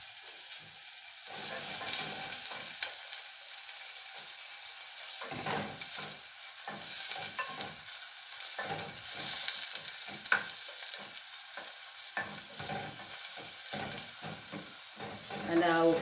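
Chopped onion fries in groundnut oil in a pan while it is stirred, giving a steady close sizzle with scraping strokes from the spoon, and no one talking.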